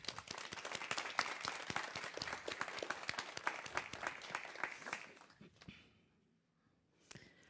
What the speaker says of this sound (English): Give them a warm hand of applause.